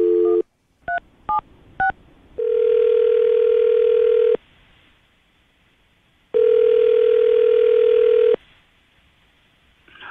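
A telephone line hums briefly, then four quick keypad dialing beeps sound in a row, followed by two long, steady ringing tones separated by quiet pauses, all clear and close with no voices.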